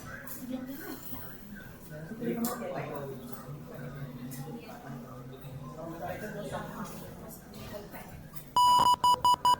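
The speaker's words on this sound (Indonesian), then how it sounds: "kita tunggu aja sampai nanti bunyi bip bip bip seperti alarm gitu." A person talks for most of the stretch in a DCS control systems lab, then a loud electronic alarm buzzer starts beeping in rapid, evenly spaced pulses at the end.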